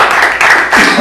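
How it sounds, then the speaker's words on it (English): A university class applauds after a presentation, a loud, close burst of clapping with two short pauses, the room noise close up. "now you can applaud"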